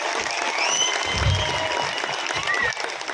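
Audience clapping for teachers at a gathering, a dense, fairly loud burst of applause that carries on steadily, with a faint murmur of voices underneath.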